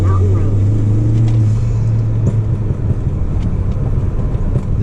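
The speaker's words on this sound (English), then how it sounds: "You see the car does rev past 3K." A Toyota Supra MK4 engine holds a steady, loud low drone with a humming tone while driving on a road, rising briefly and then settling into a rough rumble.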